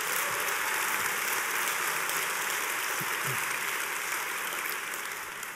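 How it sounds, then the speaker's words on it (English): Audience applause at a 2013 PMI awards ceremony in New Orleans, a broad, even wash of many people clapping that holds steady and tapers slightly toward the end. "Let's give them a warm round of applause"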